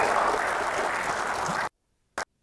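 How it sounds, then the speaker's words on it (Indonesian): Audience applause for Dr. Wawan and ILUNI representatives at an Indonesian professors' oration event, a dense, steady wash of clapping that cuts off abruptly after about a second and a half, followed by silence and one short burst. "kita berikan aplaus juga kepada mereka"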